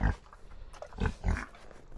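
Pigs grunting at a winter farm water bowl, several short, low, rough grunts in quick bursts, close and fairly quiet, with no one talking.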